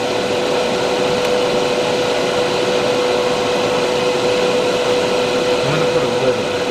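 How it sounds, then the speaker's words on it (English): An airbrush sprays paint onto parts of a 1/60 PG Unleashed Nu Gundam model kit, giving a steady, close, continuous airy hiss with a faint constant whine underneath and no pauses. "See how well it flows out of my airbrush."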